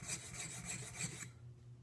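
A woodworking chisel honed by hand on a sharpening stone to remove a micro bevel, producing close, steady rhythmic rasping strokes for about a second before stopping.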